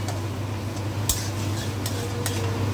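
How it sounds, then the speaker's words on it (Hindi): Cloves and garlic fry in a pan while being stirred, giving a steady low sizzle under a few bright scraping clicks of the spoon against the metal. "तब तक हम इसको चलाते रहेंगे जब तक ये ब्राउन ना हो जाए"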